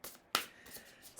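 Tarot cards are shuffled by hand up close, a sharp riffle burst followed by soft, faint papery slides and flicks.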